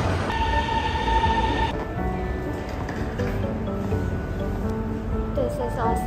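Shanghai metro train pulling out of a station, a steady rumbling hum with tonal whine and rising pitch near the end, heard close from the platform amid station ambience and some background voices.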